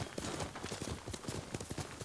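Horse hooves clip-clop in a quick, steady gallop rhythm as a rider climbs a hill in the samurai video game Ghost of Tsushima, the beats close and continuous across the whole stretch.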